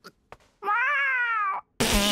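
A person imitates a cat's meow with a drawn-out, realistic, tonal cry lasting about a second, preceded by a couple of faint short sounds and followed by a sudden burst of noise.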